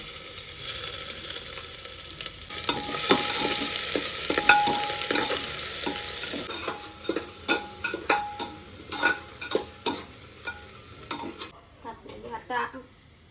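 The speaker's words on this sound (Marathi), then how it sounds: "आता आलं लसूणची पेस्ट टाकायची" Ginger garlic paste hits a pan of fried onion for an aloo pulao, bursting into a loud sizzle, then settling into scraping stirs and clinks of a spoon as the frying quiets.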